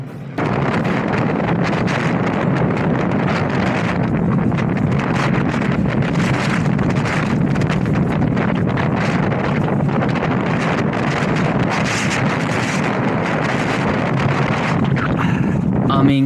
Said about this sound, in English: This was a wind.